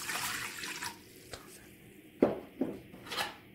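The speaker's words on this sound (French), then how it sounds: "On met l'eau." Water poured into flour while making msemen dough, a few short splashy pours and trickles close by, separated by brief quiet gaps.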